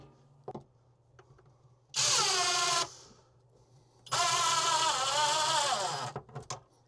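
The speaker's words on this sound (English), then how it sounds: "We're going to use 2 screws through those pilot holes designed to mount this box to the surface." A power drill drives two screws through pilot holes to mount an electrical outlet box to a surface, heard as two separate loud bursts of whirring motor, the second longer, with a faint steady hum and small clicks in between.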